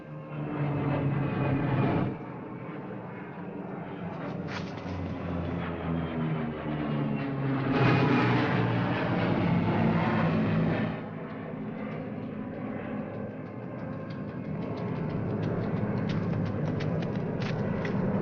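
A propeller pickup plane drones overhead, its engine swelling louder as it passes and then holding a steady rumble.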